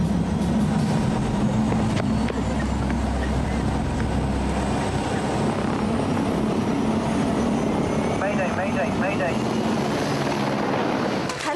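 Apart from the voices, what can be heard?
helicopter flying close overhead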